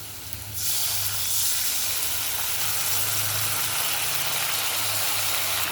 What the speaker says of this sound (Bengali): তেজপাতা দিয়ে আলুটা ভাজা দিয়েছি। তা আলুটা প্রায় ভাজা হয়েও গেছে।